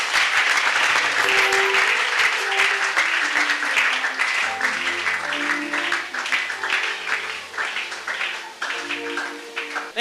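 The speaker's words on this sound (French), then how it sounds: "On acclame très fort le Seigneur." A church congregation applauds and cheers loudly in praise during a pastor's service, dense continuous clapping with sustained music tones underneath throughout.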